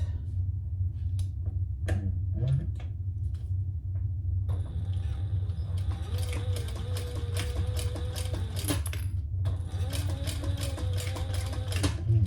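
A sewing machine stitches webbing strap to a slider in two rapid runs of dense, rattling stitching, separated by a short pause, with scattered clicks beforehand and a constant low motor rumble throughout.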